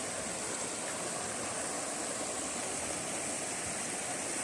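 River water rushing over exposed stones, a dense, steady broadband roar that stays constant and close throughout.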